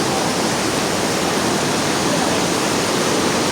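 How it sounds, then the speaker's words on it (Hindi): Mantoka waterfall near Skardu, fed by glacier meltwater, roars as a steady, loud, broadband rush of falling water close by, with no break or voices. "मंटोगा वाटरफॉल।"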